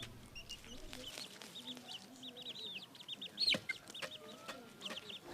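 Chicks and chickens peep and cluck on a poultry farm, with repeated high chirps and a few sharper calls over a quiet background and faint voices.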